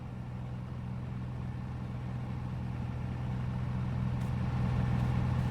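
A truck in the video game Farming Simulator 19 pulls up with a steady, low engine rumble that grows slightly louder and nearer over several seconds. No one speaks over it.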